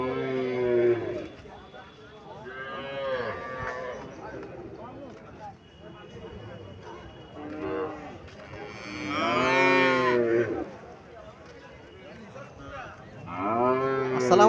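Several long, loud, close moos from cattle at a livestock market in Cumilla, Bangladesh, repeating every few seconds, with some brief overlapping calls and background crowd noise.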